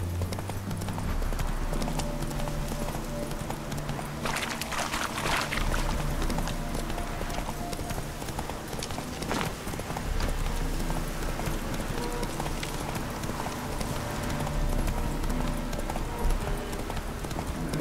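A horse's hooves clip-clop at a steady, rhythmic pace on the ground throughout a long stretch of The Witcher 3 gameplay, over a thick bed of game ambience and music.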